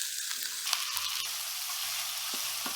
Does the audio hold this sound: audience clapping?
no